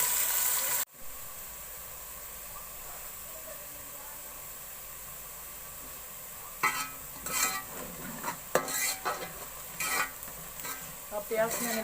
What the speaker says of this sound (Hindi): अब मैं प्याज को ब्राउन कर लूंगी।